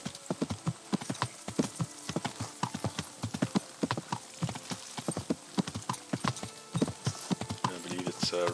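Steady, rhythmic horse hoofbeats in the video game Kingdom Come clip-clop at a walking pace, close and clear, continuing without pause.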